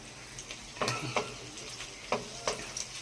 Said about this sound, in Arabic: الكفته اهي هي بتتحمر كده